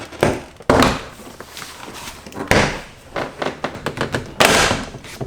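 A Lexus IS interior door panel (2014–2021 model) is hinged up and lifted off the door, giving several loud plastic thumps and clunks with rattling handling noise in between, close by.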